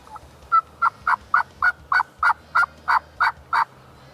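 Wild turkey gobbling during a turkey hunt, a series of about eleven evenly spaced, moderately loud gobbles at a distance, with no talking.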